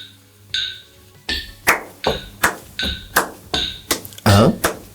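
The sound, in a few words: hands tapping a rhythm on the offbeats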